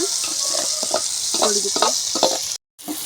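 Gravy goes into an ivy gourd curry frying in a pan, with a steady close sizzle and a few stirring scrapes, then a brief cut-out before the frying resumes.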